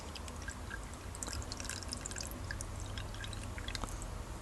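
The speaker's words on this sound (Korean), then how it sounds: "여기까지 물을 부어주세요. 찬물을 부어주시면 되고" Cold water poured into a cup up to a marked fill line while making lava jelly, a steady soft liquid trickle with faint drips running throughout at low level, with no talking.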